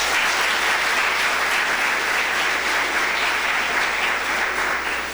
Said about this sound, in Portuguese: Aplauda Jesus por isso.